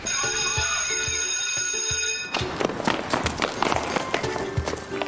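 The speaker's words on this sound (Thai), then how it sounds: "รีบวิ่งกลับห้องเรียน" Cartoon characters run back to the classroom with quick, light patter of footsteps in a busy cluster, following a ringing school bell that cuts off abruptly, close and fairly loud.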